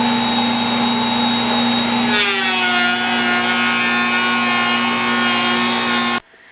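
Router driven by a power feeder makes a second pass along a crown moulding board, a loud steady motor whine with a pitch drop partway through as the cut loads, then it cuts off abruptly near the end.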